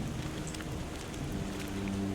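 Steady rain falls in the dark fantasy game Tainted Grail: Fall of Avalon, a dense continuous patter with a faint low rumble beneath, close and even throughout with no talking.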